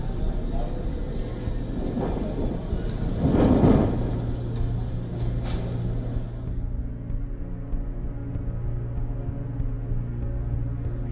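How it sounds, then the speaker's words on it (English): A storm of dust and rain over India's national capital region brings a constant roar of rain and wind, a heavy rumbling thunder swell partway through, then a quieter, lower drone. "A massive dust storm accompanied by rain hit the national capital region in India"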